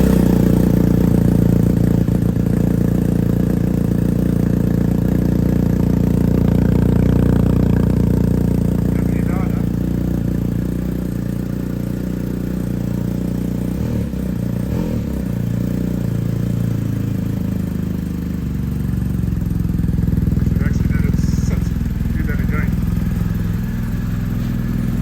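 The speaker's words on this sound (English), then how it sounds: "Let's turn the old bike on there. And let's give it its first fire up. The Akrapovic." A BMW R1250GS Adventure motorcycle fitted with an Akrapovic slip-on exhaust fires up and idles close by, a steady low engine rumble with small revs and a few clicks, continuing for the full stretch.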